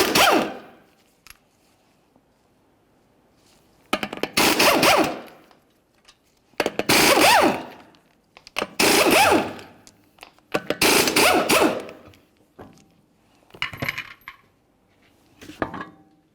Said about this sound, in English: continue on to removing each of your 5 21mm lug nuts